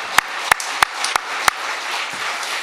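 A church congregation claps in a short burst of about five distinct sharp claps, spaced and fairly loud, over a soft room background.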